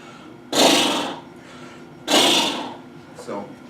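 A person's voice imitates a horse in a stable, making two loud, breathy snorting bursts up close, each about a second long. A softer third snort follows.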